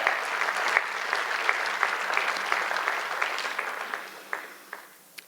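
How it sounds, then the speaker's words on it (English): An audience at a community presentation and author talk claps steadily in a room, a dense patter of applause that holds for several seconds and then gradually thins out into a few scattered claps. "So give yourself a round of applause."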